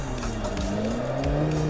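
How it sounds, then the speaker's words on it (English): A race car engine in the Assetto Corsa driving game holds a steady, loud drone, then its pitch shifts as the throttle is blipped for a heel-and-toe downshift, with faint tire noise underneath. "And then you blip the throttle with the heel like that."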